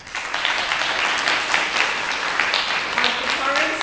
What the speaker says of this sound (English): Please give a round of applause to Maureen Leidenbrew